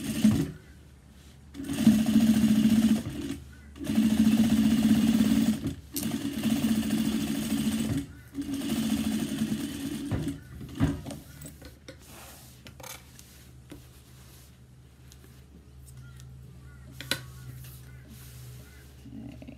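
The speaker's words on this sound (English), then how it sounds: "do a top stitch and make sure you catch that seam behind the side panel" A sewing machine top stitches a backpack side panel seam on a daypack, running in several loud bursts of steady whirring separated by short pauses, then giving way to quieter rubbing and handling of fabric.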